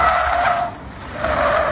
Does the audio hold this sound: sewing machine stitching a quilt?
no